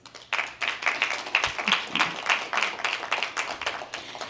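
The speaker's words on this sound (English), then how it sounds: "Please give them a round of applause." Sustained applause from a crowd, dense steady clapping that carries on throughout, heard from within a large room.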